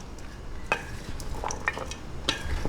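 Macaroni salad with plenty of cheese is stirred in a bowl, with soft mixing and several sharp clinks of a utensil against the dish. Close, fairly quiet, no voices.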